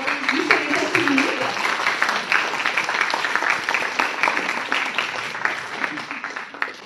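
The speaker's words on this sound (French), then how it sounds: "Donc vous avez le droit d'applaudir." Audience members at a talk on high potential and giftedness clap in a crisp, steady round of applause that tapers slightly toward the end, with a voice briefly audible at the start.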